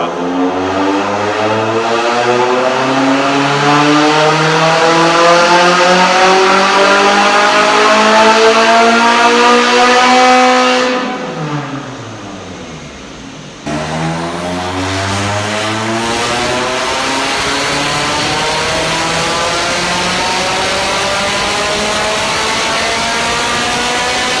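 A Nissan 180SX engine screams through a long, loud pull, its pitch climbing steadily, then dropping briefly before winding up again and holding a sustained high drone, heard close from inside the car with no talking.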